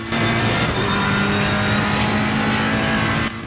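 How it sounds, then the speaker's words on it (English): A car roars past on the right in loud, continuous broadband engine and road noise, as heard through a Razer Nari wireless headset; no voices. "Car on the right."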